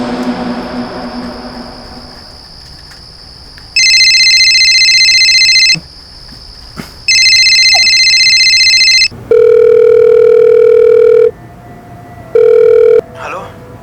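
An electronic telephone ringtone sounds in two long, loud bursts, followed by lower steady tones, over a quiet room background.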